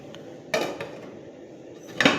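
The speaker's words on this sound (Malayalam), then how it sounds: "അതിന് മുമ്പ് എണ്ണ ആദ്യം നമുക്ക് മൂടി വെക്കാം" A metal lid clanks onto a pan of hot frying oil, two or three brief close knocks and clatters with a soft sizzle underneath.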